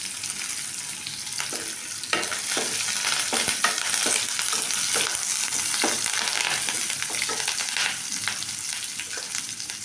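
Green chillies and curry leaves dropped into softened onions in a pan, sizzling loudly and steadily in hot oil, with spoon stirring scrapes and crackles throughout.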